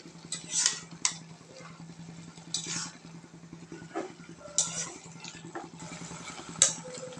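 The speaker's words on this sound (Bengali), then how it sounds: "সুন্দর করে নাড়াচাড়া করে নিচ্ছে আলু এবং শাক মিক্স করে নিচ্ছে" A spoon scrapes and clinks against a pan as fenugreek greens and potatoes are stirred, making irregular metallic knocks over a soft, steady sizzle and background hum.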